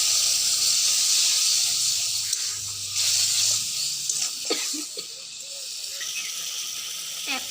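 Spice masala with turmeric and salt fries in a pan for a cabbage and egg dish, giving a loud, close, continuous sizzling hiss that softens slightly as it is stirred.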